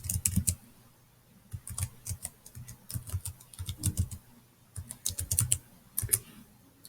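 Computer keyboard typing an email address, with quick bursts of keystrokes separated by short pauses, close and clear with no talk.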